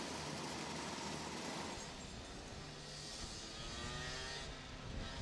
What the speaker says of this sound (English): There is Jacob Stott coming round in the 13 cart, so he'll be coming through to join on in this junior Rotax grid.